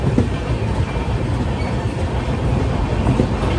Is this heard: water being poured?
no